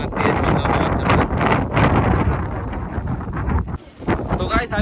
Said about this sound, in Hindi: तेज हवा चल रहा है, लोगों को तो पता चल ही रहा है